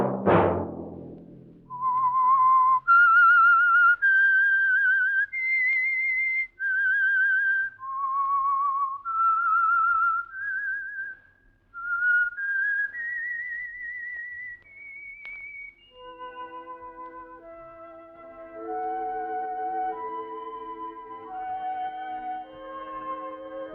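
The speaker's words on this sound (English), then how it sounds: "Let that whistle be your signal" A lone whistler performs a slow, eerie melody, clear and close, then a soft instrumental backing takes over the tune: the whistled theme of the old-time radio mystery drama The Whistler.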